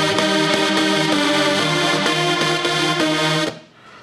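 Two layered synthesizer parts from a trance remix play together: sustained bright chords over a rhythmic pulsing pattern, loud and continuous, cutting off sharply near the end.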